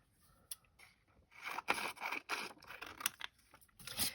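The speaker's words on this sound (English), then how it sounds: "Just do it with scissors for now." Scissors cut through a Gelli-printed paper panel for a handmade card, giving a series of irregular crisp snips and scraping crunches at close range, some sharper than others, with no talk.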